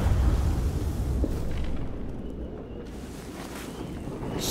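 A bomb blast in The Walking Dead: The Final Season game, a loud, broad rumbling boom at the start that slowly fades into a wind-like roar over several seconds, with no voices.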